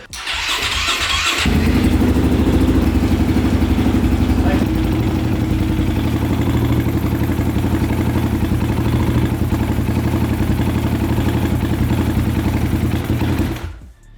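A KTM EXC 530 supermoto motorcycle engine fires up after a rough start, then runs loud and steady with a deep, throbbing idle close by until it cuts out at the end, with people talking over it.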